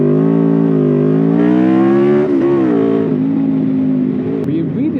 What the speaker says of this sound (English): so that you can hear the beauty that is this engine